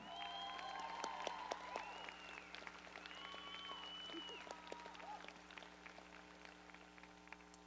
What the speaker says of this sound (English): Please give a round of applause and appreciation for the staff at Options High School.